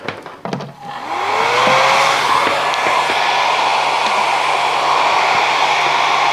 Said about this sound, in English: let's try a little mini hairdryer